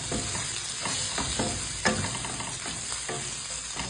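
Aromatics and tomato sautéing in a pan for chicken and pork adobo, a loud steady sizzle close by, broken by repeated scraping stirs of a utensil roughly every half second.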